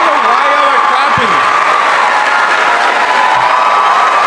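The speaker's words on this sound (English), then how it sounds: "I don't know why y'all are clapping." A student audience at a campus debate cheers and claps in a dense, loud, continuous crowd roar, with a voice speaking briefly over the noise.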